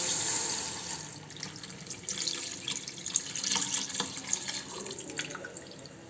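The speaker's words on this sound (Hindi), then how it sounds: "इसमें हम कैरट शामिल करते हैं और साथ ही जी हम मिल्क शामिल कर देंगे।" Milk poured from close by into a pot of carrots for gajar kheer, a steady liquid stream with small splashes running throughout, no voices.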